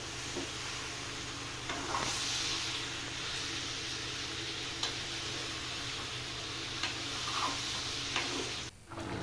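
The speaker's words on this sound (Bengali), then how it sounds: "আর এই যে ভাত ফুটছে।" A pot of rice bubbles and hisses in a steady, soft simmer, with occasional faint ticks and knocks.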